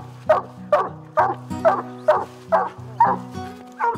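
Raccoon hunting dogs barking at a tree in the Ozark hills, a steady string of about eight loud bawling barks spaced roughly half a second apart over a low constant engine-like drone.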